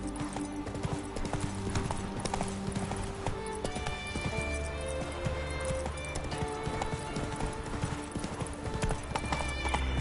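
Roach the horse gallops in The Witcher 3: Wild Hunt, hooves clip-clopping in a fast, continuous rhythm close by, with a brief whinny amid steady game ambience.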